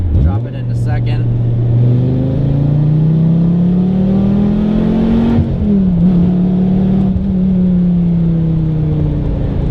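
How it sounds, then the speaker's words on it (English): A Dodge Viper GTS engine pulls hard in second gear from inside the car, loud and close, its pitch climbing steadily before a brief dip at the shift and a sustained roar; someone talks over it at the start. "The car is very loud in every regard, in terms of road noise, wind noise, engine noise"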